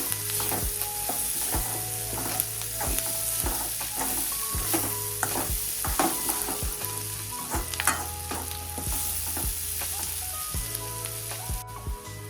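Bitter gourd and onion sabji fries in a pan with a steady sizzling hiss, while a spoon stirs and scrapes the pan in repeated close strokes throughout, with no talking.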